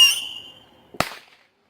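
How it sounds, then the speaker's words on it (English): Fireworks go off outdoors: a fading whistling screech opens, followed a moment later by a single sharp bang, with another faint pop at the very end. "There's fireworks everywhere. There's ones going off there, one's going off behind the tree over here."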